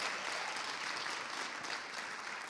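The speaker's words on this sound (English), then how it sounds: "clap for that" A crowd claps steadily and fairly loudly at a talk with Patrisse Cullors and Nikkita Oliver, a continuous wash of applause with no speech over it.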